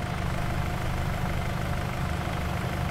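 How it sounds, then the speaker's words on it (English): A utility tractor engine idles steadily in a garden, a loud, continuous low rumble that holds even throughout with no voices over it. "Because everybody has to drive a utility tractor through their garden."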